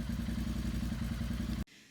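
A motorcycle engine idles with a loud, steady, chugging mid-pitched beat while newly wrapped exhaust heat tape cures, then cuts off abruptly near the end.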